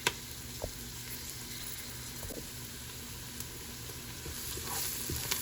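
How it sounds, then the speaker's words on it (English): Chicken biryani frying steadily in a pot on high heat at close range, a constant crackling hiss with occasional soft clicks of stirring. "So as it's still frying"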